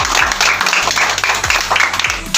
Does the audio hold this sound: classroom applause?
yes